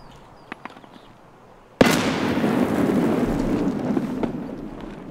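A grenade goes off with a single sharp, loud blast in the shooter game Escape From Tarkov, followed by a long rumbling decay that fades slowly, after a few faint clicks.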